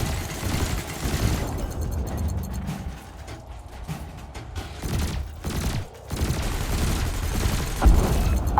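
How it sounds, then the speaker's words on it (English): Ship lasers and cannons in Elite Dangerous fire in rapid bursts of sharp blasts and booms, with brief lulls between volleys. "Meanwhile, your laser will fire until the capacitor is depleted,"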